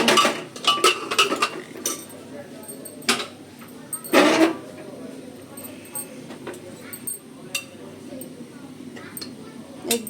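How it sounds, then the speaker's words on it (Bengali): A pressure cooker is unlatched and opened in a home kitchen, with sharp metallic clicks, clanks and a scraping lid rattle scattered through, loudest near the middle, while a person talks alongside. "চলে আসলাম প্রেশার কুকারটা খুলতে"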